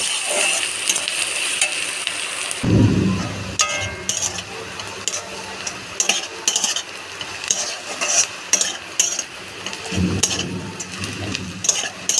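Onions frying in oil until reddish-brown for a chicken chhat dish, a continuous sizzle with repeated spatula scrapes and clinks against the pan and a couple of low thumps, close and fairly loud, no speech.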